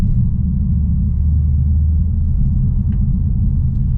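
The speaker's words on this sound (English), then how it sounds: "This must be the best 2-liter turbo engine ever produced in the history of road cars" Deep, steady rumble of a Mercedes A45S AMG 2-liter turbocharged engine, loud and close, holding a constant drone with no breaks.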